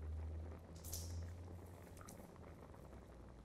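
White beans simmer in a pot of boiling water with a spoonful of corn oil added, a faint, steady bubbling and popping with a low hum under it and a couple of sharper splashes.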